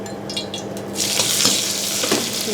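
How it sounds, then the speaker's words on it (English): Chili and garlic frying in a pan over medium heat for a clam stir fry, a bright close sizzle that jumps louder after a moment and keeps crackling with light stirring scrapes. "Fry chili and garlic."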